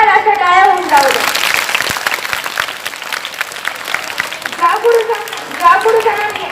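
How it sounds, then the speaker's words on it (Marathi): Loud, sustained applause from an audience at a Guru Purnima school program honouring teachers, a dense steady clatter of many hands lasting several seconds, with children's voices audible over it at the start and again near the end. "तर एकदा जोरदार अशा टाळ्या होऊन जाऊ द्या."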